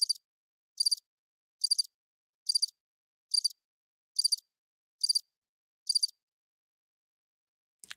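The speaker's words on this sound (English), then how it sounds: "Crickets on that one." Cricket chirping: eight evenly spaced high, trilling chirps repeat about once a second, then stop, leaving near silence.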